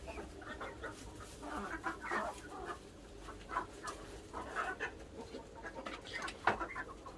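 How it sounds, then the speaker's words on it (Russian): Chickens and roosters clucking in a yard near a beach at Yeysk, a steady run of short clucks and calls of moderate loudness over low background rumble, with no talk. "Вот куры 3"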